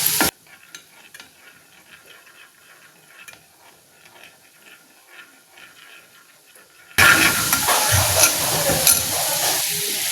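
Chicken and vegetables for a gratin are stirred in a pan with a large spoonful of cornstarch added, starting with soft scraping before a loud, close sizzle of frying takes over for the last few seconds.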